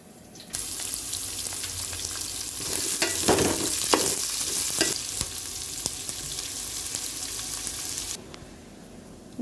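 Garlic, green chillies and big and small onions sautéing for crab masala, a steady loud sizzle with scraping stirs swelling in the middle, running nearly ten seconds before cutting off near the end.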